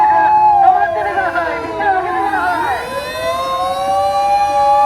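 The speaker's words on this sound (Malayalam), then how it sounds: "സിഗ്നൽ വീണപ്പോഴാണ് എമർജൻസി ഫയർ എഞ്ചിൻ വന്നത്." A fire engine siren wails loud and close at Shibuya crossing in Tokyo, its rising and falling tone sweeping through the busy intersection over a murmur of crowd noise and voices.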